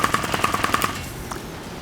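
A VR shooter played through a Provolver Elite gunstock fires a rapid, evenly spaced burst of about nine sharp shots lasting under a second, then falls quiet apart from one later click.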